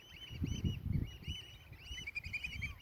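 Faint high chirps and twittering of small birds over a low, irregular rumble of water or wind.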